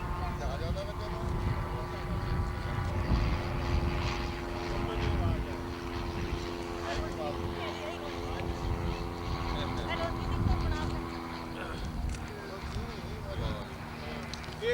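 A propeller airplane passes overhead, its steady droning hum holding fairly loud for the whole stretch while people talk beneath it.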